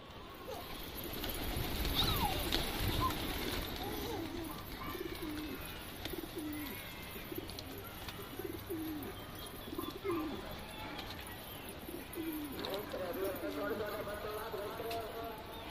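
Low, soft pigeon coos repeat throughout over a steady outdoor background, with some faint talking and bird chatter mixed in.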